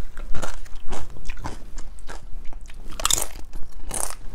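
Crunchy celery being bitten and chewed at a diner meal, a series of loud, close, crisp crunches with bright crackling bursts, one especially sharp bite near the end.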